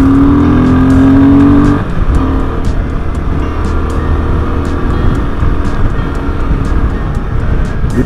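A car rushes past on a narrow winding Himalayan road, a loud engine surge and tone shift heard from a moving motorcycle over steady road and wind rumble.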